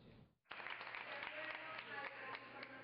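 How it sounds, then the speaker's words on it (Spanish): Delegates of the Alianza País party applaud an electoral council announcement in Guayas as a vote-counting session closes: a brief lull, then sudden, sustained dense clapping from a room full of people. "Delegados de Alianza País aplauden el anuncio de los directivos del Consejo Nacional Electoral en el Guayas"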